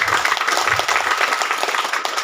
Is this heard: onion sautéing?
no